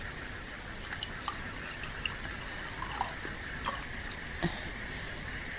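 Water poured for hand washing as a radio drama sound effect, a soft, faint trickle with scattered small drips and splashes over a steady hiss.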